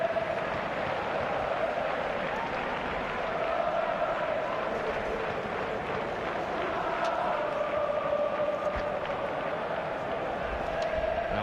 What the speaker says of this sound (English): there's a sellout crowd here for the 13th time this season